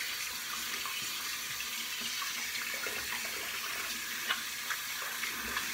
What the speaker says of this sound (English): Or rinse the tub off, I should say.